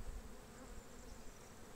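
A bee buzzes inside a beekeeper's mask, a close, steady droning hum that carries on alone for the whole short stretch.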